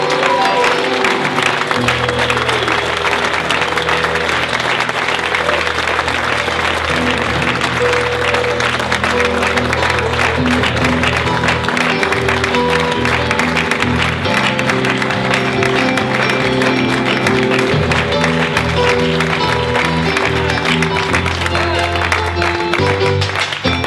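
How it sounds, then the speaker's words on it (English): A crowd gives a standing ovation at an event, sustained loud clapping with some cheering, mixed with music or a tonal drone running underneath throughout. "So please, a standing ovation and a warm recognition and applause for Simon and Julie Brooks."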